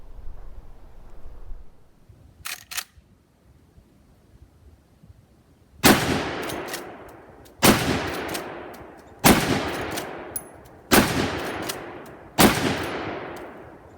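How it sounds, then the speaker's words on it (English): A Henry lever action rifle fires five loud, sharp gunshots from a standing position, spaced roughly 1.5 seconds apart with ringing decay, preceded by quieter metallic clicks of the lever being worked. "I'm going to try a few shots just standing and make sure I'm operating that lever briskly"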